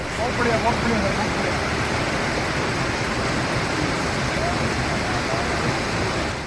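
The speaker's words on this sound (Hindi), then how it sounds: "पानी की रफ्तार, उसकी शोर लोगों को डरा रही है" Flash flood water after a cloudburst in Kinnaur, Himachal Pradesh, gives a dense, continuous roar of rushing current that stays steady and loud for the whole stretch, with no clear voices over it.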